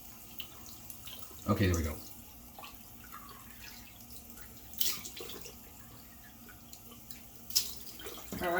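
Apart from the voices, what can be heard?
cold tap water running and splashing face at sink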